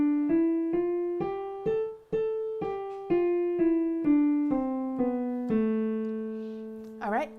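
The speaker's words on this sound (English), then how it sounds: "if you don't remember how the minor scale sounds, it sounds like this" A minor scale is played as an example in plucked or struck tones, roughly a dozen evenly spaced notes that step up and then back down, each one decaying. A short vocal sound comes at the end.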